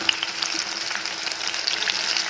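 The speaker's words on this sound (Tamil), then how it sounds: "நல்லா ஃப்ரை ஆகட்டும்" Chicken 65 fries in hot oil, giving a steady, faint sizzle with fine crackles and pops close by, with no talk.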